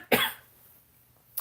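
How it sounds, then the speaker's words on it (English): A single sharp, close cough from a person recording in a small home studio, followed by a brief silence and the start of another cough at the very end. "Sorry about the cough, guys."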